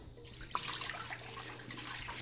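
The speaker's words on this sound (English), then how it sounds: "this is the water basin, and you're supposed to put 3 quarts of water in here" Water pours into the shallow basin of a steam juicer, a steady close splashing and trickling with a few brief drips and bumps.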